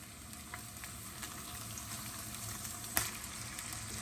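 Lemon sole fillet frying skin-side down in a hot pan, a faint, steady sizzle and crackle with one small sharp pop, no voices.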